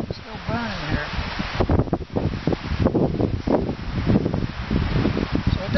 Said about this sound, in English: There's enough wind here, a good gust will come through here and just reignite this.